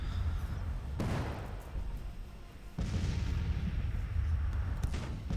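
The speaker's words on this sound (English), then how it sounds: "But I think the artillery just might be chasing them off. So I think that's who they're firing at right now." Civil War artillery in a video game booms out in two heavy, close reports with rumbling tails, spaced a couple of seconds apart over a low, constant battlefield din.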